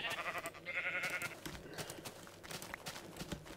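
Repeated sheep bleats from the Minecraft video game, several nasal wavering calls in a row, fairly loud and close amid other game sounds.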